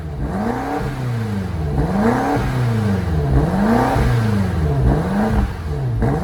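A 2020 BMW X5 M Competition engine revs repeatedly in rising and falling sweeps, loud and close, with a throaty sporty note from its dual-branch exhaust with electronic flaps throughout.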